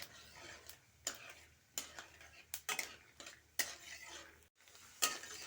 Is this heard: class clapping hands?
no